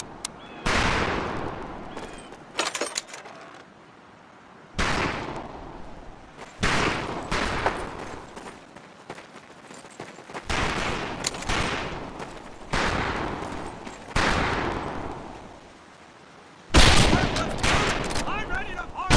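Rifle shots and bursts of machine gun fire crack across a firing range in Medal of Honor: Pacific Assault, with loud repeated volleys separated by brief pauses and some game voices between them.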